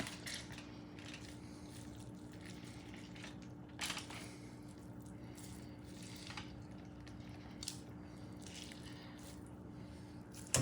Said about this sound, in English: Squeeze some of the water out.